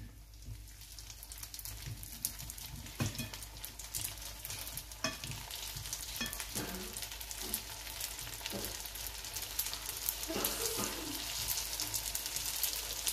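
Almond briouates fry in oil with a crackling, rain-like sizzle that builds gradually, punctuated by clicks and taps as the pastries are turned over.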